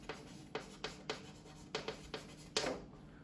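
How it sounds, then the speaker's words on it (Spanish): Chalk or marker strokes on a board during a math lecture, a series of short, irregular scratchy taps and drags, close but fairly faint, with no speech over them. "lo escribo por ahí"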